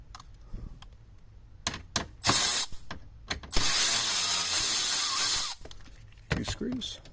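Screws being backed out of a VW Touareg dashboard with a ratcheting tool, giving bursts of close mechanical clicking and whirring separated by pauses and small handling knocks.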